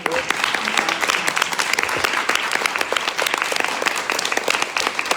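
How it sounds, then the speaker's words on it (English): Loud, dense applause from a conference audience at the end of a presentation on supporting Central Europe, many hands clapping with sharp individual claps standing out, sustained throughout. "can I just get a huge round of applause for us?"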